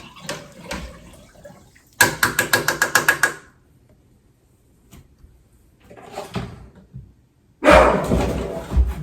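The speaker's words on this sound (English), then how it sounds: "you hear Benji barking" A dog named Benji barks in a fast, loud string of close yips, pauses, then barks again more loosely and breaks into another loud burst, with quiet stretches between.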